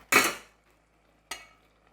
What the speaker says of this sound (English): So just stir, avoiding being too aggressive.